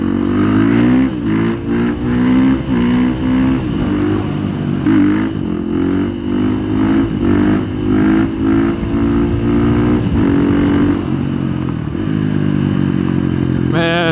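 A 2019 KTM 500 EXC-F supermoto motorcycle engine revs loud and close, rising and falling in repeated throttle blips with a steady harmonic drone throughout and a sharp rev at the end.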